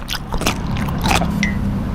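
Crunchy bites into crispy pork, a few sharp crackling crunches close to the mic over a steady low background hum.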